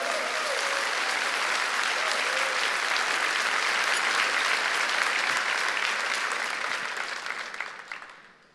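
A church congregation breaks into loud, sustained applause for God, a thick wash of many hands holding steady for several seconds before fading out at the end.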